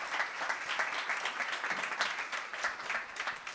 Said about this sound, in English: One more round of applause for that sharks,